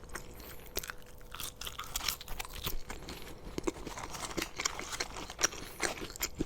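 Close, crisp crunching and chewing of McDonald's French fries, with irregular bites and wet mouth sounds in a quiet room and no talking.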